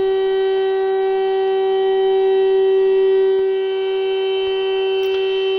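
A sustained air raid siren in Kherson, Ukraine wails at a steady pitch, loud and unbroken, with a slight dip in volume partway through.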